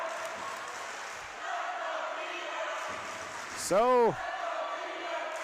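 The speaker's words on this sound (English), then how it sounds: "Cheering section's getting into it here a bit." A volleyball crowd's cheering section at a Minnesota high school match, a diffuse murmur of voices with a brief rising whoop, heard under a commentator talking.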